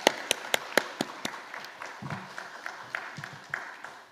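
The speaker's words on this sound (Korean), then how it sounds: "우리 다시 한번 감사의 박수로 하나님께 영광 돌려드리겠습니다" A few distinct hand claps at first, then thinning into sparse, softer clapping and faint murmurs from a room during a Korean church worship service.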